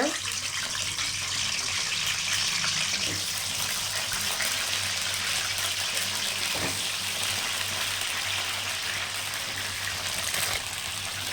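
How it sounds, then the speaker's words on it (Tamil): Eggplant pieces frying in hot oil for a spicy tamarind curry, a steady dense sizzle and hiss that runs continuously with a faint background hum. "இப்போ எண்ணெய் காஞ்சதுமே நம்ம கத்திரிக்காயை போட்டுக்கலாம்"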